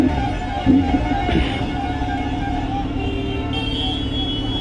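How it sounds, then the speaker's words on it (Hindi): Dense roadway noise from a jammed city chowk crowded with autos, with a constant engine drone, idling vehicles and a brief horn toot close by, heard from a motorcycle rider. "भाई बहुत ज़्यादा ट्रैफिक है, चौक हो गया है पूरा चौक"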